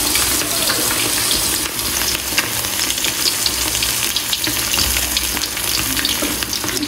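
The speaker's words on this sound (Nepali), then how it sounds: "मेरो चाहिँ तेल तातिसकेको छ। म चाहिँ हाल्छु 3 चिम्टा हाल्छु म" Pieces of food frying in hot oil, a loud continuous crackling sizzle with irregular pops and spatters throughout, no voices.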